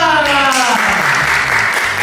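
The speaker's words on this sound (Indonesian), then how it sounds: "Terima kasih atas tepuk tangan Bapak Ibu" An audience at a company gathering for CV Sejahtera Sentosa claps briskly for a couple of seconds, the applause close and lively, with a voice speaking over it.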